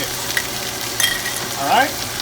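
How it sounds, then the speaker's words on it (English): Celery sautéing with thyme and bay leaves, a steady close frying hiss with faint stirring scrapes and a brief vocal sound near the end. "I'm going to add the pinch of thyme and the 2 bay leaves, and I'm going to saute for another about 2 minutes"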